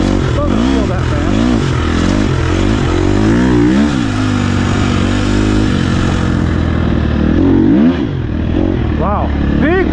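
A 2024 Husqvarna TE 300 Pro dirt bike engine runs steadily up close while being ridden slowly, its throttle rising and falling in repeated swells, with a sharper rev building near the end.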